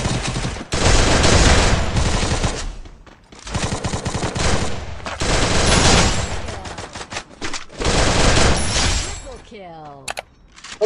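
Gunfire rings out in a Free Fire battle-royale match: long, loud automatic bursts with short breaks between them, then a trailing ringing effect at the end.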